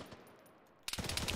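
GPMG machine gun fire in ArmA 3, a quiet stretch followed by a sudden burst of rapid, close automatic shots that carries on to the end.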